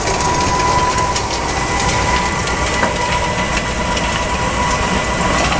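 A tractor-drawn seed drill at spring sowing, its ground wheel turning a shaft that meters seed from the hopper into the delivery tubes, heard as a steady, loud mechanical rumble with faint rattling and clicking throughout, no voices.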